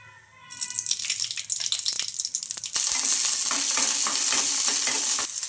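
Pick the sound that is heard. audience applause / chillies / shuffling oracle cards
chillies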